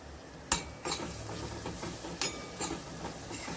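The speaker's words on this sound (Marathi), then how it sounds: "ते छान आपल्याला वाटण मस्त परतायचं आहे" Green masala paste for a ghevda curry is sautéed in a pan with a faint sizzle under sharp metallic clinks and scrapes from a spoon. A handful of distinct stirring strikes are spaced irregularly.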